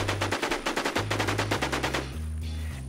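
Rapid bursts of machine-gun fire in the video game Infestation: The New Z rattle off in a fast, regular rhythm for a few seconds, loud and close.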